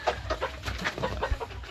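A small Serama chicken hen clucks in a quick series of soft, close clucks, with no one talking.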